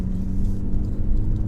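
A 2018 Ford Focus ST pulling uphill, its engine a steady, loud low rumble that holds without a break, heard from inside the car.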